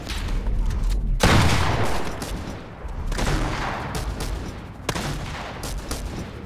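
Gunfire in the Fortnite video game, with a sniper rifle among the weapons: loud bursts and booming shots that fill most of the stretch, with a sharp crack near the end and no talk.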